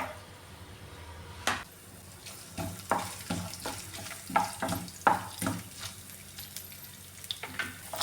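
Grated coconut drops into hot coconut oil in a pan for a Kerala-style beans stir fry, giving a low sizzle broken by repeated sharp scraping and stirring knocks, close and moderately quiet, with no talking.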